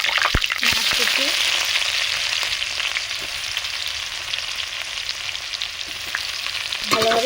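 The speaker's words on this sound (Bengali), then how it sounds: "ভালোভাবে পেঁয়াজগুলো ভেজে নেব।" Chopped onions with sugar and bay leaves fry in hot oil in a pan, a loud continuous close sizzle with a few spatula scrapes and knocks near the start and end.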